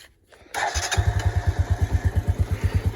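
A Bajaj Boxer motorcycle engine with about 10,000 km on it starts after a brief crank, then settles into a close, loud, evenly pulsing single-cylinder idle.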